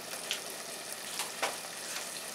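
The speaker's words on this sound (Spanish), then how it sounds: "que ya está así hirviendo" Vegetable soup with potatoes and peas boils in a pot, giving a faint, steady bubbling and crackling with a few soft pops scattered through, heard alone.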